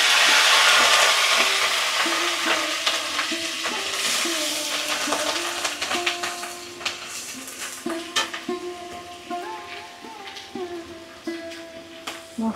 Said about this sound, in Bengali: এখন আমি বাটা মশলাটা দিয়ে দিচ্ছি